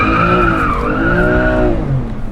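Car skidding on a test track as it turns around, a loud, close tire squeal wavering in pitch over the engine's roar for about two seconds.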